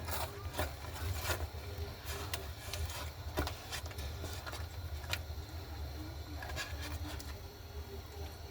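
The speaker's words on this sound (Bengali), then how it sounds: "এখন আমরা ঢাকনা খুলে এটাকে নেড়ে দিব" A spoon scrapes and rubs through thick carrot halwa with semolina in a pan, steady soft rasping strokes over a low constant hum from the stove, with no talking.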